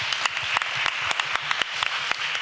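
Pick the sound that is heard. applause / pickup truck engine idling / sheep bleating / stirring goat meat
applause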